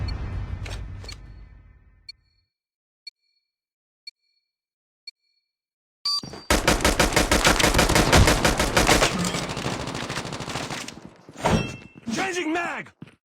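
Call of Duty Mobile gunfire: a few sparse single clicks, then a loud stretch of rapid automatic bursts at close range, breaking off briefly and resuming.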